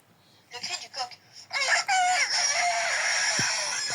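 A person's voice does an old, rough-sounding imitation of a rooster crowing. A few short clucking bursts lead into a long, loud, strained cock-a-doodle-doo that trails off, heard up close on a lo-fi recording.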